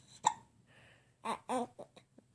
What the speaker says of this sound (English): I know, I don't like hiccups either